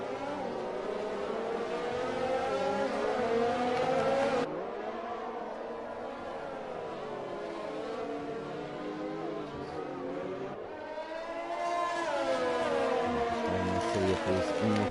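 Formula racing cars whine through a video game Grand Prix in Brazil, a continuous high-pitched engine drone with rising and falling pitch sweeps as cars close in and overtake, loud and steady throughout.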